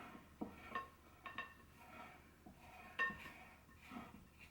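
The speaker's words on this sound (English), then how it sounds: "I'm going to scrape the sides. I'll just put the spatula there. I'll turn the bowl." A spatula scrapes around the sides of a bowl of bread dough, giving faint, close clinks and scrapes at an uneven pace while the bowl turns.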